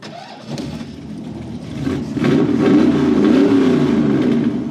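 A 1966 Ford Mustang restomod's engine cranks and catches, then settles into a steady, loud rumble that builds slightly and holds close by.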